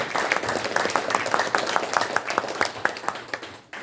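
An audience at a ceremony honouring independence activists applauds a descendant being introduced, brisk clapping of a moderate crowd with distinct individual claps, fading at the end.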